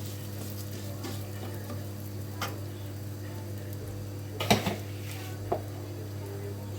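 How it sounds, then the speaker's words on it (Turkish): Bulgur sizzles and is stirred in a pan, a steady low frying hiss under a kitchen hum, broken by a few scraping stirs and clinks. "Azıcık bulgur daha koyacağım."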